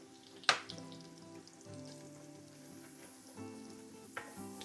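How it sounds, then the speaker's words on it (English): Flour and garlic cooking in a soup pot, a soft steady sizzle with a sharp clink of a utensil at the start and another near the end, quiet and close, no talk. "now I'm gonna add 3 tablespoons of flour, and this can just cook down to get the flour taste out."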